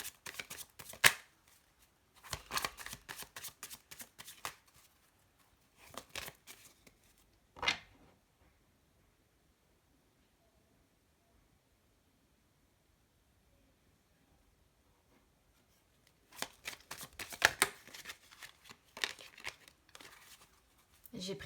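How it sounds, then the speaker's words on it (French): Tarot cards shuffled by hand in short crisp bursts, several riffles early on, then a long quiet pause before another shuffling run near the end; no speech is heard. "je vais tirer 5 cartes, à moins qu'elles viennent toutes seules"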